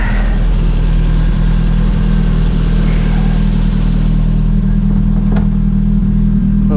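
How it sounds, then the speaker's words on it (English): A car engine idles low and steady, a constant deep rumble with no revving, loud and close throughout. "It only just recently started idling this low."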